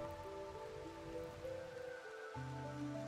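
Rain pattering steadily in Rimworld, a soft continuous wash layered with sustained low musical tones that shift partway through, no voices present.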